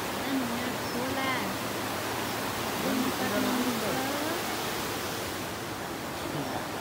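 A mountain stream rushes beside a temple on the way to Muktinath, a constant broadband roar close by, with faint voices talking underneath the flowing water.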